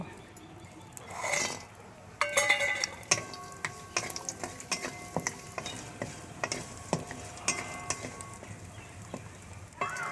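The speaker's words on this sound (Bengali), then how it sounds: "এবার বড়িগুলো আমি ভেজে নেব।" Bori lentil dumplings fry in hot mustard oil in a heated kadai, giving a steady crackling sizzle with frequent sharp pops and light stirring clatter, close and continuous without talk.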